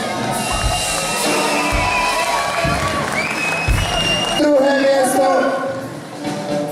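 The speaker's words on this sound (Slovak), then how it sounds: "KIU doktor Juraj Štefánik, veľký potlesk!" Audience at a karate kumite award ceremony applauding and cheering for a winner, a steady dense wash of clapping and shouts throughout, loud and close, with a voice speaking over it.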